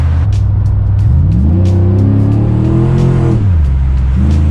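A 1987 GMC S15 truck with a 5.3 LS engine drones along the highway, its engine note rising and falling through gear changes, loud and close in the cabin with steady road roar.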